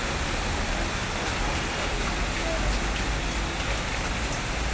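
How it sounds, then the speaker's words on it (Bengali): Rain falls steadily around a shed, heard from beneath its roof: a loud, continuous wash of drops drumming on the surface, constant throughout without pauses. "দেখছো কীভাবে বৃষ্টিটা হচ্ছে।"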